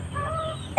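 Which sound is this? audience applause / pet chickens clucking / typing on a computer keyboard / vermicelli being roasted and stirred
pet chickens clucking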